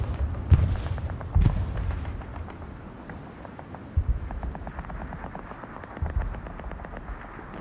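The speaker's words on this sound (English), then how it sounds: "And the first rockets." Rockets exploding in the video game Hell Let Loose: a few heavy, dull booms spaced a couple of seconds apart, the loudest near the start, over a constant low battlefield rumble with no talk.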